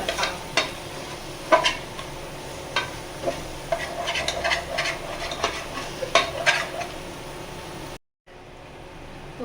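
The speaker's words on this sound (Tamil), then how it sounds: "இப்போ வந்து வெங்காயம் நல்லா வதங்கி அதுலேருந்து எண்ணெய் வந்து பிரிஞ்சு வர ஆரம்பிச்சிச்சு." Onions sautéing in oil in a pan for biryani, a steady sizzle broken by repeated spatula scrapes and stirring strokes, close and moderately loud, cutting to silence near the end.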